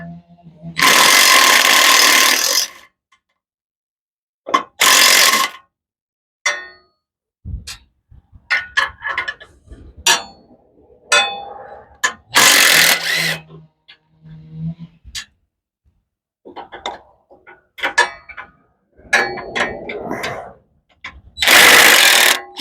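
An impact wrench works a stubborn bolt on a YardMax log splitter, firing several loud, close hammering bursts of a second or two each, separated by quiet gaps filled with clanks and handling of parts.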